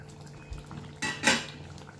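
A metal lid knocks and clatters onto a pot of simmering chicken curry, giving two or three short clanks close by with a faint bubbling underneath.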